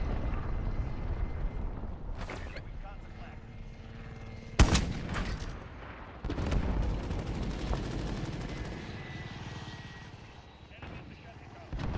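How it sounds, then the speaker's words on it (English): A flashbang grenade detonates in a first-person shooter with a sharp, loud bang followed by a ringing tail. Scattered gunfire sounds around it, and the surrounding game noise stays quieter. "flashbang, left front center."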